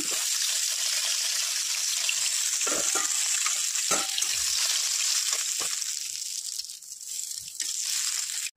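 Fish sizzles loudly in hot mustard oil in a pan, a dense continuous crackling hiss with a few soft knocks and scrapes as the fish is turned over.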